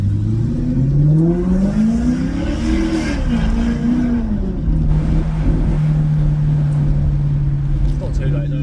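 A Maserati GranTurismo S fitted with sport catalytic converters and silencers accelerating, its engine note climbing and dropping through a gear change and then holding a steady loud drone, heard close from inside with occasional voices.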